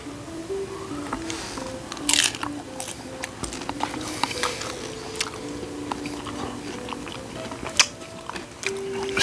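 Spicy chicken and nachos being eaten up close, with crisp crunching bites and wet chewing repeated steadily over a faint constant background hum, with no talking.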